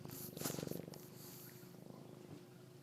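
A cat purring steadily and quietly into a microphone, a low continuous pulsing rumble that swells briefly near the start and then settles into an even purr.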